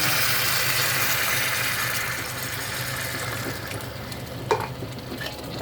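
Ground pork for a Chinese-style dish frying in a pan, a steady hiss of sizzling with occasional stirring scrapes and a couple of sharp knocks near the end, no voices.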